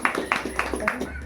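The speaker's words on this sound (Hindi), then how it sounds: "वो तालियां दो" Audience clapping at a foundation's first anniversary celebration, a few distinct claps in a loose rhythm, moderately close and not very loud.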